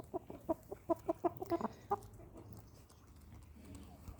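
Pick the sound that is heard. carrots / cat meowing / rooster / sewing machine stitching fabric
rooster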